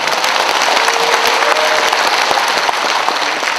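Loud, dense applause from a large audience at the founding rally of a citizens' council backing relocation of Gwangju military airport, steady sustained clapping throughout with no voices.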